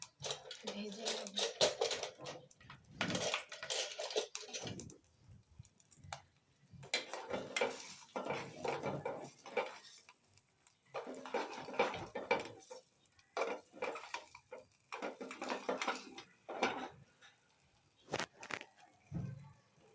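Frying and stirring in a pan gives close, intermittent bursts of scraping and clinking of a utensil against metal, with quiet pauses between, and a faint sizzle underneath.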